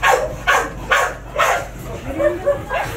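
An American Bully dog barks in a steady series of about six loud, close barks at even intervals, with a few softer whimpering yips between them.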